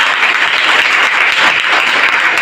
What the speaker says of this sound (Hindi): एक बार ताली जबरदस्त वाली बजा दीजिए।